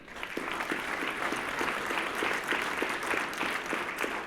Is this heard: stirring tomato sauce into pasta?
no